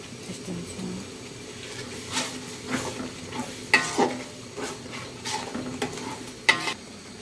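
Chicken sautés in a pan with shahi cumin, salt and spices for a biryani. A continuous sizzle is punctuated by repeated scraping stirs and a few sharp utensil clinks against the pan.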